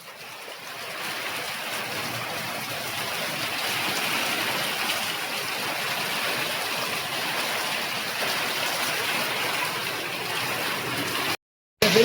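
Heavy rain with flowing water in a village: dense, steady hiss of downpour and rushing water filling the scene, continuous and fairly loud, cutting off briefly near the end.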